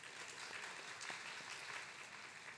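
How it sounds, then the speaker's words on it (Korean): A church congregation applauds during a Sunday worship service to welcome a new organist, producing soft, continuous clapping that sounds somewhat distant and muffled in the room. "우리 박수로 환영하겠습니다"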